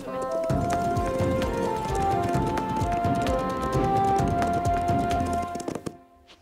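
Horses walking over hard ground in a steady clip-clop, hooves landing close and continuous for about six seconds before stopping, with a faint background tone underneath.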